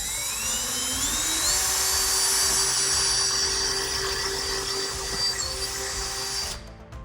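A power drill fitted with a 7/64 bit bores a hole for wall mounting, a high, steady whine that rises slightly in pitch and then cuts off abruptly near the end, close and without talk.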